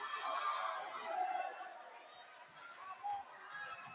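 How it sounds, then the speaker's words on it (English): Restless Adamson student crowd at a university women's volleyball match against UST, a faint, distant murmur of chatter rising and falling in the arena, with no clear cheers standing out. "Adamson crowd getting antsy here."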